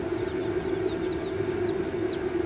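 Baby chicks in a brooder give repeated high, thin peeps, scattered and irregular, over a steady low hum like a heat lamp or fan.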